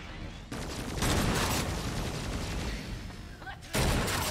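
Turrets firing in the video game Agents of Mayhem, bursts of dense gunfire and booming blasts rolling over one another, loud and sustained with brief lulls, mixed under game sounds.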